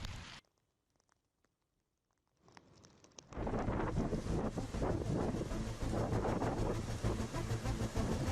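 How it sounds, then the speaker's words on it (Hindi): Strong cyclone winds roar across the microphone after a near-silent start, building from a faint rush into a loud, continuous buffeting blast that fills the rest of the clip. "तेज हवाएं चल रही हैं।"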